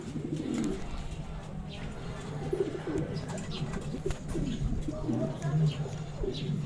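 Racing pigeons coo repeatedly in bubbling low bursts near a loft at a derby race, while someone talks over them.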